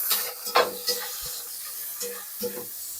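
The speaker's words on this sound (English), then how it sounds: "Saute these around" Garlic and herb seasoning sautéing in a pan, a steady close sizzle with a few soft scrapes and clicks of stirring scattered through it.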